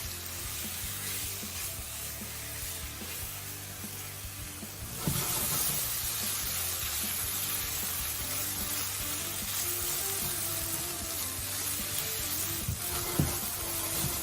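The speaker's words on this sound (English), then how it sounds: "you want to stir fry this over a medium-high heat for around about 5 minutes" Steady loud sizzling fills the whole stretch, food frying hard in a hot pan, with occasional scraping and clinks of stirring.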